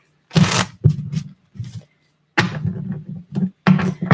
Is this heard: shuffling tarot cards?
yes